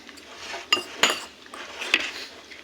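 Onion, mayonnaise and cheese are mixed in a dish with a utensil, giving a few sharp clinks against the bowl over a soft, wet scraping stir.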